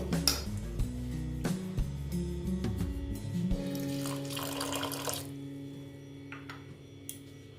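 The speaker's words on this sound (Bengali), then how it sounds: "জল আমি একটু দিচ্ছি অ্যাড করছি জল" Water is poured into a wheat and refined flour batter, making close, gurgling, bubbling splashes with a hollow tone that thin out into a few faint drips toward the end.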